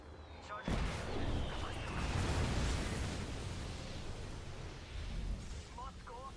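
A grenade blast in a shooter video game: a sudden loud explosion followed by a long rumbling roar of gunfire and debris, with brief faint voice-like chirps near the end.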